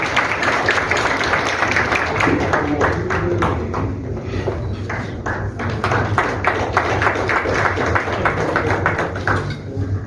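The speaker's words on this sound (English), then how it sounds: "Can we have a big round of applause" Steady crowd applause at a culinary launch gala in Chhattisgarh, dense rapid clapping sustained for the whole stretch over a continuous murmur.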